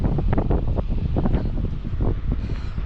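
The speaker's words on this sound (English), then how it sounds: "damn, it's windy." Strong wind buffets the microphone at a truck loading dock, a continuous rough low rumble with gusty swells throughout and no voices.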